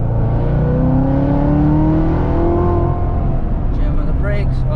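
A Corvette Z06 engine revs hard and climbs in pitch as it accelerates out of a corner, loud and close, with a voice talking over it.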